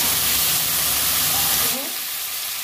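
Cut gourd and potato hit a pan with ginger paste, a loud close sizzle and hiss that drops off sharply after a couple of seconds into a quieter fry.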